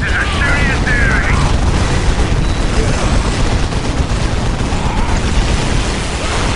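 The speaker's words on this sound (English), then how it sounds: "Orc races are shooting at the enemy!" Orc forces in Warhammer 40,000: Dawn of War – Winter Assault trading dense gunfire and booming explosions, a loud continuous barrage from start to finish with faint voice bits early on.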